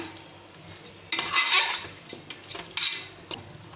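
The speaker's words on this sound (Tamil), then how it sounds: "சிக்கன் கூட அந்த இஞ்சி பூண்டு பேஸ்ட்டு நல்லா மிக்ஸ் ஆகிற மாதிரி நல்லா கிளறி விட்டுக்கோங்க" Chicken with ginger garlic paste stirred in a pan for chicken kulambu, with a quiet start, then bursts of metal spoon scraping and clinking against the pan over a light sizzle, and no voices.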